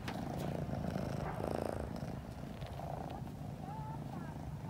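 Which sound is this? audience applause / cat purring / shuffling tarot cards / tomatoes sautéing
cat purring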